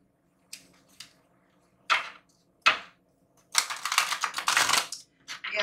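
A tarot deck is shuffled close up, starting with a few separate sharp card snaps, then a dense riffling burst of cards lasting about a second and a half.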